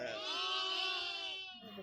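A lone young sheep, separated from its flock and caught by a dog, bleats in a long, wavering cry that fills nearly two seconds and fades at the end.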